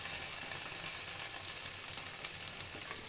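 Cabbage manchurian sizzles continuously in a hot pan as it is stirred, a close, even hiss with faint scraping and no speech.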